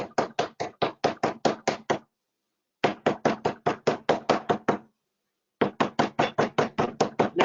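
Floured pastry dough with cold butter is pounded with a rolling pin in quick, even runs of dull thuds, about eight to ten blows per run. The runs are separated by short silent pauses, and every blow lands close and firm.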